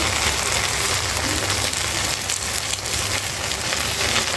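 Pabda fish frying crisp in a pan of hot oil at home, giving a steady, dense crackling sizzle that holds at an even loudness throughout, close up with no voices.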